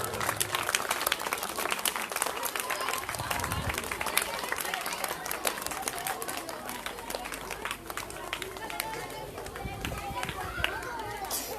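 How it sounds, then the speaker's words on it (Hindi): At a school Republic Day event, loud applause and scattered clapping rise from a crowd, thick and continuous, with chatter and voices mixed in throughout and a fairly distant, roomy feel. "जोरदार तालियां।"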